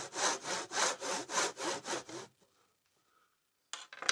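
A hand saw cuts a miter in scrap timber with about eight quick, even rasping strokes close by, then quiet before a brief scrape at the end.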